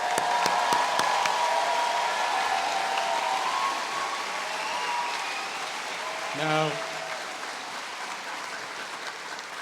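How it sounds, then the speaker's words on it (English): A large audience applauds at a high school graduation ceremony for the class of 2018, a steady wash of clapping spread across the whole span that eases slightly toward the end, with a brief voice rising near the close. "Let's give everyone a clap."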